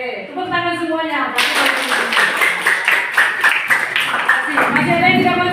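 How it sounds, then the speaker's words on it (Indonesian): A school class claps hands together in a classroom, loud and close, with a burst of rapid rhythmic clapping that starts after a voice speaks and fades back into talk near the end. "Oke, tepuk tangan semuanya."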